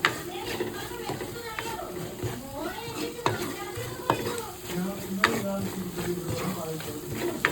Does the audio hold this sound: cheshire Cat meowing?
no